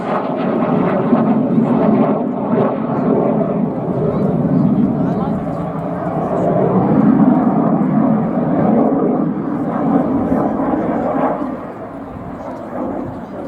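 A Spitfire Mark 5 flying at an airshow, with a steady, fairly loud propeller engine drone that swells and fades over several seconds. A commentator talks throughout.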